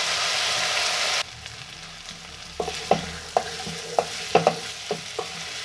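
Potatoes with chili, cumin and coriander frying in oil in a pan, a soft sizzle under repeated sharp scrapes and clacks of a spoon stirring, about a dozen irregular strokes, close and clear.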